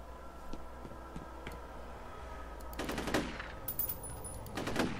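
Gunfire in the video game F.E.A.R. arrives as a few faint taps early, then two loud, sharp bursts with ringing tails, heard over low background hum.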